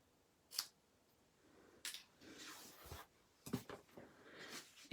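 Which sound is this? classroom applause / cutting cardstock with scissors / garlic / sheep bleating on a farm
cutting cardstock with scissors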